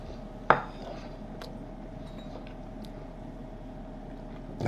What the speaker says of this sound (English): I cut me a little piece